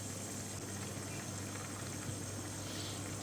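Dill stew (khoresh shevid) simmering in a pot, a steady low bubbling and hiss of boiling liquid, fairly faint and continuous with no voices.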